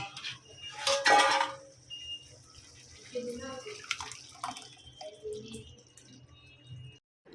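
Soaked lentils and water tipped into a pot of braised meat for haleem: a sudden splash and pour, then softer clinks and watery dribbles in a quiet kitchen.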